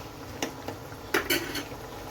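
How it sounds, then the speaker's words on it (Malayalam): Quail egg roast curry being stirred in a pan, with a few clinks and scrapes of a utensil against the pan, one early and a louder cluster near the end, over a quiet kitchen background. "നമുക്ക് നന്നായിട്ടൊന്ന് ഇളക്കി ഒന്ന് മിക്സ് ചെയ്യാം"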